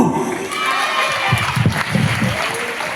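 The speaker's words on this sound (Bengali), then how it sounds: "দারুণ, বাবুনের জন্য জোরদার হাততালি হওয়া উচিত।" Audience at a recognition program cheering and clapping, a dense, loud crowd roar of claps and shouting voices sustained throughout.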